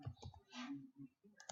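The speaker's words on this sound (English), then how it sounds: "You just click in there and rename it." A few soft mouse clicks while renaming an item in software, quiet and close, with short gaps and a small burst of clicking near the end.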